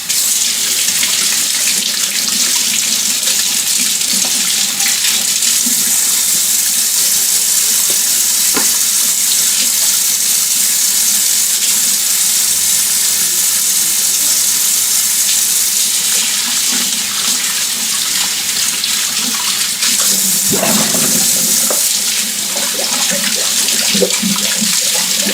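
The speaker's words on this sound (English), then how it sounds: "I'm going to wash my hands to do it, and then go and wash them again later." A kitchen sink tap runs steadily and loudly while hands are washed beneath it, the constant water rush broken by brief splashes and shifts in the flow, with no talking.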